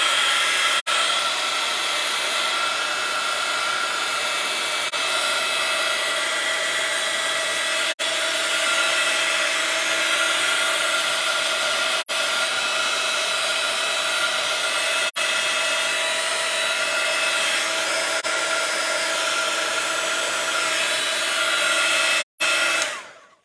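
A hair dryer blows steadily on an art journal page, a loud continuous whirring roar held for a long stretch with a few brief cut-outs, close and without talk.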